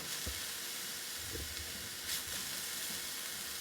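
Cauliflower fried rice with ginger sizzles in a pan with a constant, soft frying hiss, broken now and then by faint stirring knocks.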